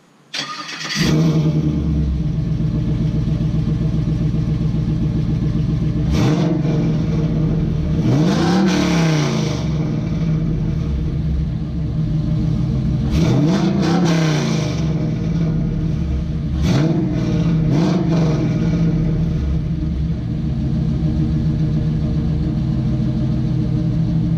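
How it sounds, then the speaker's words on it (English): A V8 engine in a third-generation Camaro Z28 idles with a deep rumbling exhaust through a Flowmaster muffler, revving up loudly several times in quick bursts before settling back to a steady burble. "That's going through like a Flowmaster muffler."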